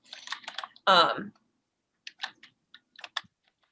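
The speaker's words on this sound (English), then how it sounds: "I can type it in the chat." Sparse clusters of computer keyboard clicks come in short, irregular bursts at a desk, with a brief vocal sound breaking in among the keystrokes.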